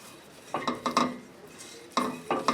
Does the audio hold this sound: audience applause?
no